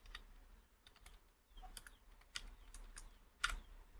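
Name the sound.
typing keyboard shortcuts on a computer keyboard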